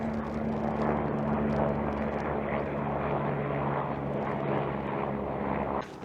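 A helicopter's steady engine drone with a low throbbing hum holds at an even level throughout, flying over snowy mountains near a hut, with no voices.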